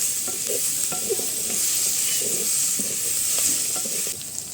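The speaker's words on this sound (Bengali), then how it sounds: "এখন ভালোভাবে নাড়াচাড়া করে এর মধ্যে আমি পেঁয়াজ কাঁচামরিচ দিয়ে দিব" Pointed gourd (potol) fry being stirred in a pan, steady sizzling with repeated scraping strokes of a spatula over about four and a half seconds, close and moderately loud with no talking.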